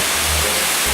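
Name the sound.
waterfall on a hiking trail in Boquete, Panama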